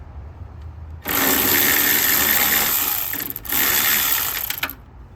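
A ratchet loosens a front strut bolt on a 10th-generation Honda Civic (2016–2021), giving a loud, continuous mechanical whirring for about four seconds with a brief break partway, close to the mic with no talking.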